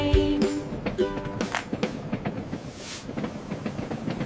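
A train sound effect for a kids' phonics song: a brief horn-like tone opens, followed by rhythmic clickety-clack of wheels on rails with hissing, fairly loud and continuous throughout.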